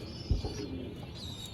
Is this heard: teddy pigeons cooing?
yes